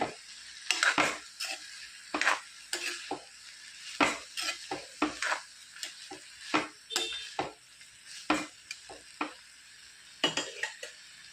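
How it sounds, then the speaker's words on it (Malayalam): A spoon stirs pumpkin masala with crushed chili flakes in a pan, giving repeated scraping clinks against the metal in an uneven rhythm with short pauses, close and moderately loud, no voices. "ഇത് നന്നായിട്ടൊന്ന് ഇളക്കി യോജിപ്പിക്കുക"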